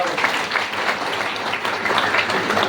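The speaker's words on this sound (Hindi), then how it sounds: "तालियां, तालियां एक बार।" An audience at a direct-selling business seminar applauds, a steady, fairly loud wash of many clapping hands with no pauses, lasting a few seconds.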